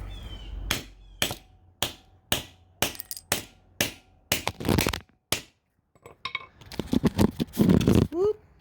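A hammer strikes an electric transformer being broken apart for scrap copper, about a dozen sharp, loud metallic blows at a steady rhythm, followed by scraping and clattering of the metal.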